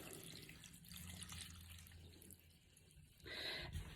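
Two cups of water are poured onto about ten ounces of dates, a soft, faint splashing trickle that swells louder near the end.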